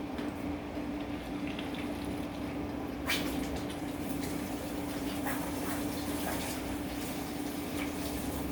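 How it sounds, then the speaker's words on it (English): Hands are washed under a running kitchen tap while preparing to chop onions for homemade tomato pasta sauce, a steady close stream of water that runs without pause, with a few soft splashes and clatters partway through. "Wash the hands."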